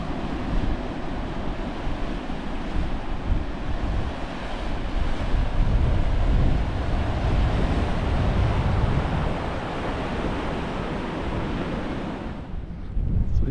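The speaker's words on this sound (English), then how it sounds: "That's a nice waves here." Sea waves surge and wash against the rocks at Peveril Point, Swanage, in a loud, continuous roar with strong wind buffeting the microphone throughout.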